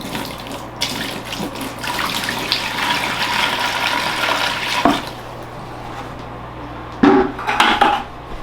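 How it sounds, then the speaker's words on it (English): Water pours and splashes into a pond-liner bonsai tank, a steady rushing close by that cuts off midway, followed by a few brief splashes and knocks. "So there we have some splashing water in there, about a ½ inch thick."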